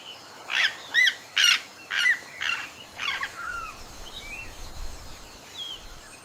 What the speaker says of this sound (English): The Quetzal birds.